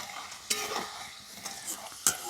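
Homemade potato French fries, nearly done in hot oil, give a soft, thinning sizzle with light bubbling and a few sharp scrapes of a stirring utensil, close and quiet.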